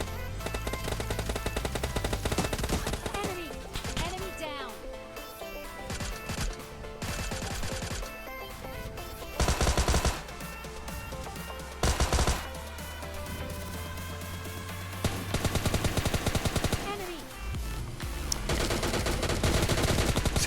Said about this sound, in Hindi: इधर से फायरिंग की आवाज़ आ रही थी